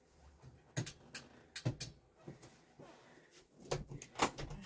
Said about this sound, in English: Shut my door so you don't hear the fan.